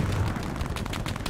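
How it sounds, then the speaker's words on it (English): Sustained automatic gunfire from a machine gun in the World War II shooter Hell Let Loose, a dense, rapid rattle of bursts with no talking over it. "It looks like a machine gun, yeah."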